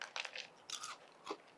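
Biting into a crunchy fried meatloaf sandwich topped with crispy fried onions and barbecue sauce: three or four close, sharp crunches in quick succession, with no talking.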